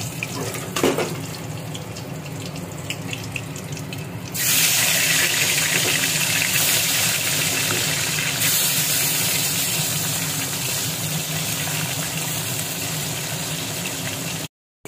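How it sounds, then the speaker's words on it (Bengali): Pomfret fish marinated in salt and turmeric is slid into hot oil: after a few seconds of quiet kitchen sounds, a loud, steady, close sizzle bursts in and hisses on continuously until the end. "আর আগে থেকে তো নুন হলুদ মাখিয়ে রেখেছিলাম পমফ্রেট মাছটাকে, ওটাকে ভেজে নেব"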